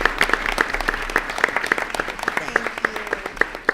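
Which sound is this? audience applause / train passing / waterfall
audience applause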